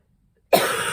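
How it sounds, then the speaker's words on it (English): A person coughs and sneezes at the same moment, one sudden loud, close burst that breaks out of silence and trails off into a rough, breathy rasp. "Coughing and sneezing at the same time."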